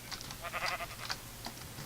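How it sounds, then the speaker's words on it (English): Sheep in the Minecraft video game give a few short, faint bleats close together, thin and slightly muffled, with no talking. "Hi, sheep. Bye, sheep."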